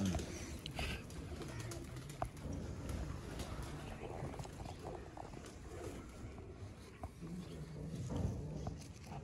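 Pigeons coo softly against a noisy outdoor background, with faint voices and wind, in the India-Pakistan border area near Sialkot.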